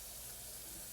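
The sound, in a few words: chicken being rinsed under running tap water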